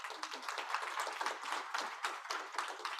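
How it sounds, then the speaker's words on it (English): A general meeting audience claps in a quick, dense patter of many hands, moderately loud and steady throughout, without talking. "Great applause to you."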